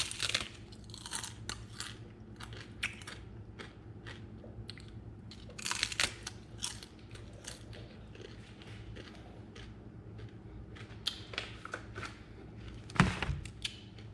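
Crispy chips crunch close up in a steady run of sharp, dry bites and chewing, with a few louder cracks and no talking.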